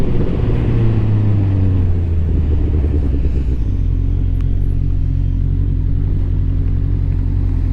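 A Honda Hornet 600 motorcycle engine revs hard past 8000 rpm. It is a loud, close roar whose pitch climbs and then holds as a steady, rumbling high-rev drone throughout.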